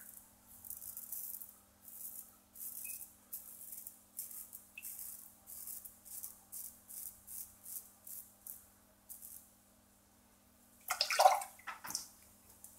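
A shaving razor is rinsed under a running tap in short repeated bursts of spraying water, fairly quiet and close, with a louder splash and clatter near the end; no talking.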